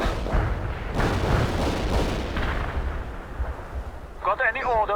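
Artillery firing in the World in Conflict video game: heavy booming blasts and rumbling detonations layered close and loud, with a brief voice speaking near the end.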